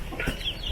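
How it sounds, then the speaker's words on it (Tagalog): A chicken gives a short, soft cluck nearby, brief and unaccompanied by talk. "Ayan yung mga manok. Naghihintay na naman ng pagkain."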